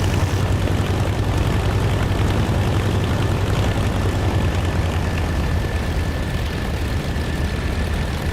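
A propeller aircraft engine roars steadily and loudly during takeoff in the DCS flight simulator game, a constant dense drone with a faint high whine and no voices.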